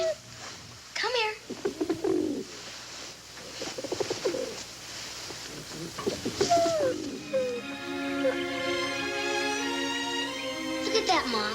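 A pigeon coos in soft, repeated throaty phrases close by, while people talk around it.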